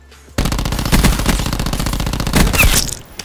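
Rapid automatic gunfire in the Black Ops 4 Blackout video game, loud sustained bursts of shots after a brief quiet start, fading near the end.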